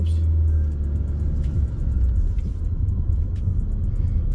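A cheap used car bought for 1600 lari rolls along in first gear, its engine a low steady rumble throughout with a faint rattle and knocking over the top.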